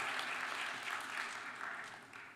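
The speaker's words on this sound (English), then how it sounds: "A round of applause for all those folks who make Virginia State University's Honors College faculty possible." Faint, distant applause from an audience at a university honors convocation and awards ceremony, a soft even patter that fades slightly toward the end.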